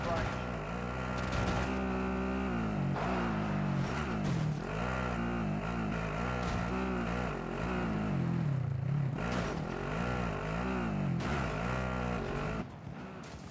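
In-game vehicle from Call of Duty Warzone, its engine droning and revving steadily and loudly throughout, with gunfire-like bursts and other game sounds layered on top and no clear talk.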